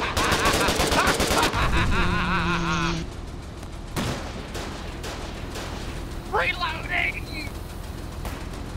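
Rapid machine-gun bursts and gunshots fired at a tank in a video game, a dense loud volley that breaks off into scattered shots and game effects while players shout over it.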